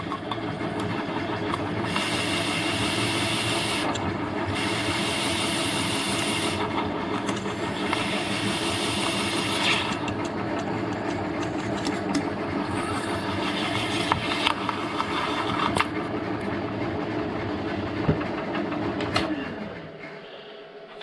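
A carbide-tipped hole saw grinds through 1/8-inch stainless steel in a long, loud, continuous cutting roar with a steady hiss, then winds down near the end.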